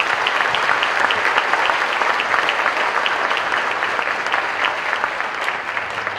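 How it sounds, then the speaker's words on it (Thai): Sustained applause from a live-audience crowd at a personal-finance stage show in Thailand, dense steady clapping filling the whole stretch at an even loud level with no voices over it. "ขอเสียงปรบมือ"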